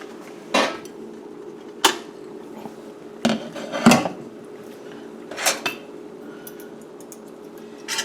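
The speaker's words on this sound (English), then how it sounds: "So let's take the lid off." A rice cooker lid comes off after yams have cooked inside, giving several sharp metallic clanks and knocks spread out over a few seconds against a quiet steady hum.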